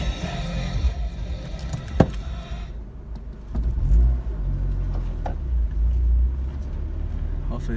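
Toyota MR2 with a swapped K-series engine and a newly fitted limited-slip transmission driving on the road, engine droning and rising as it accelerates, steady and fairly close, with some voice-like sound mixed in.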